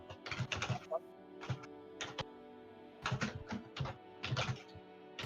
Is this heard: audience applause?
no